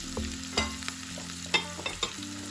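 Steady sizzling of dried Lotia fish (Bombay duck) frying in a pan. A few sharp clinks and scrapes sound over the constant hiss, and there is no talking.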